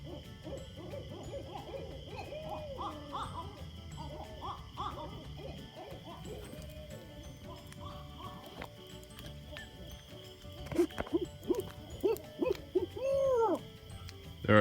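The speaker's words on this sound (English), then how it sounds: "There are 2 pissed off owls in our trees." Two owls hooting from the trees around a rural homestead, repeated wavering hoots at moderate distance, growing louder and sharper near the end over a steady background hum.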